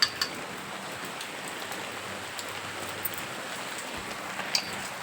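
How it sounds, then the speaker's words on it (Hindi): Steady, soft rain hiss with a few faint drips on a home's grass and leaves, continuous and fairly quiet, with no talking. "होने लग रही है बारिश"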